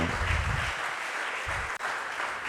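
Worshippers at a church praise service break into applause, a dense, steady roar of clapping that carries on throughout, with a brief dip near the end.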